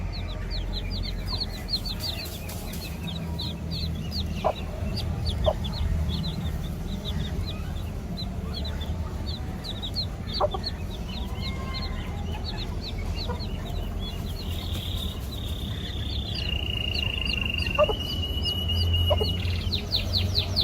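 Hens cluck in short scattered calls, with small birds chirping in the background and a steady outdoor hum; nobody speaks.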